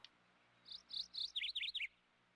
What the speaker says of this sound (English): And the birds are leaping merrily on the roof.